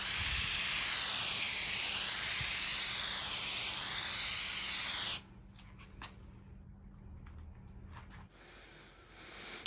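Plasti Dip sprays onto a car badge in one long, steady aerosol hiss lasting several seconds, close and fairly loud, then stops abruptly, leaving quiet background.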